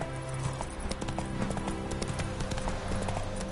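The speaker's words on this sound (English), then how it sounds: "Spooking my horse." Horse hooves clip-clop at a steady, continuous pace in The Witcher 3 (Hearts of Stone expansion), close and fairly loud over a busy bed of game music and ambience.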